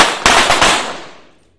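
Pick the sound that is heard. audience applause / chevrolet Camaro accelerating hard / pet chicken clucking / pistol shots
pistol shots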